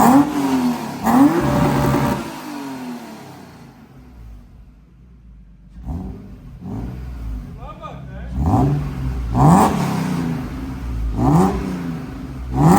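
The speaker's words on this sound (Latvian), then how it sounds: "Viņš jau gāzējot būs skaļāk." A car with its exhaust silencer removed revs repeatedly, each blip rising sharply in pitch and falling back, with a lull between bursts and voices talking over the loud, close engine.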